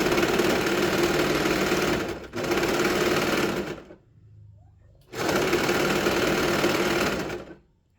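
Sewing machine stitching a dog sweater, running in two long steady bursts with a brief pause between and a quiet gap before the second run.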